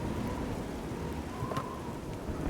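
Steady rain pours with low rumbling thunder in the Oblivion video game, a continuous wash of rainfall filling the clip with a faint crack partway through.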